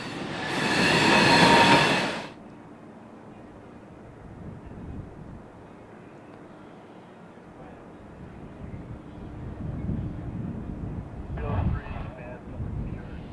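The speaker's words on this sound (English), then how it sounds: "the train is slowed to a snail's pace again as the pair of switchers navigate mill trackage to the coking ovens" A freight train rumbles slowly through a steel mill toward the coking ovens, pulled by a pair of switchers, with steady low grinding and faint metallic squeals, after a brief loud roar at the start.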